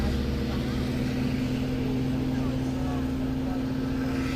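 Long Island Rail Road train 2798, the Cannonball, departs Westhampton station with a steady low diesel drone and engine hum, close by and continuous, with no clear talk over it.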